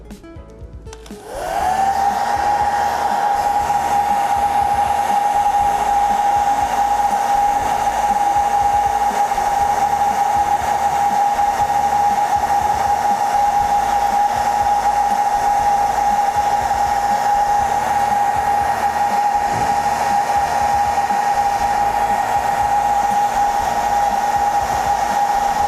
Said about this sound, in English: we're going to use the hair dryer to dry this